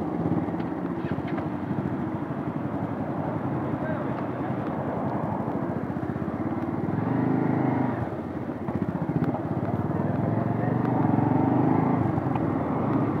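Bajaj Pulsar NS160 motorcycle being ridden in a drag race setting, a steady engine drone with wind buffeting that swells as the bike gains speed, heard continuously without pauses.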